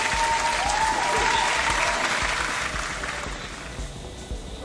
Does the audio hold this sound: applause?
yes